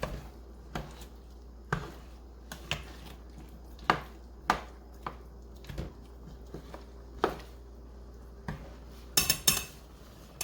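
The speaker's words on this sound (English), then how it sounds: "And then I'm gonna stir it up." A spoon stirring potato soup in a cooking pot produces quiet, irregular metallic clinks and scrapes spread across about ten seconds, with a brief cluster of sharper knocks near the end.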